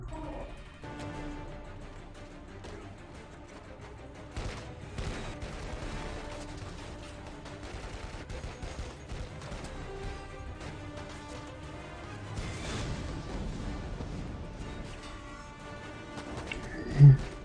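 An action scene from the 2015 James Bond film Spectre with loud explosions and bursts of gunfire over a rumbling soundtrack, ending in a sharp blast.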